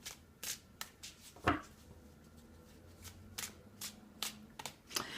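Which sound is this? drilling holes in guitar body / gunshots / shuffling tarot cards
shuffling tarot cards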